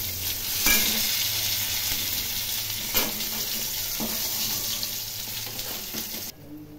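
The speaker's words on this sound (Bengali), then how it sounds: "এখন আমি এই তেলের মধ্যে বড়ি ভেজে নেব" Bori lentil dumplings fry in hot oil left over from frying fish: a steady, bright sizzle runs throughout with a few sharper pops and stirring knocks, close and alone, before cutting off near the end.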